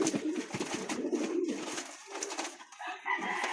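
Taiwan imported pigeons coo in a continuous, moderately loud chorus, with overlapping calls filling the short stretch and no voices over them.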